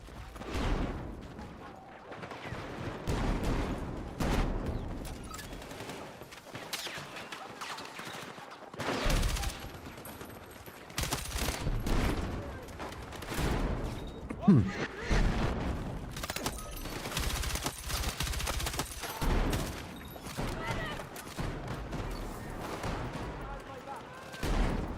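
Video game M4 carbine gunfire, the carbine version without burst mode, heard as repeated shots and rattling volleys spread across the scene, with a voice talking between and over the firing.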